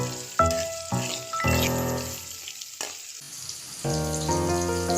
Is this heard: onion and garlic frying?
yes